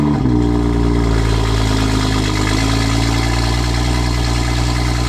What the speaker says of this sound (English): here's a little taster of what it sounds like on cold start